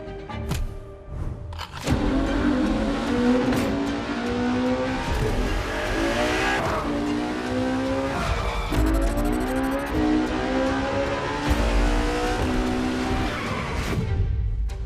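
A Ferrari Enzo races in The Crew Motorfest, its engine loud and steady throughout with rising and falling gear-change sweeps, tyre squeal mixed in, and no talk.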